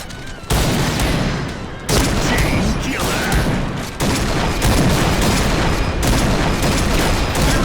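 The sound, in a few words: gunfire in PUBG video game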